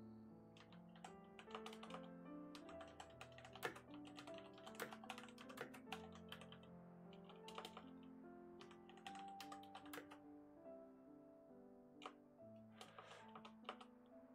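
Fingers typing a message on a computer keyboard, rapid irregular clicks and clacks in quick bursts with brief pauses, close and fairly quiet, under a faint background of music.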